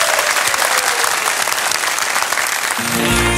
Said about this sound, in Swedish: Så jag vill ge en stor varm applåd till Jannes!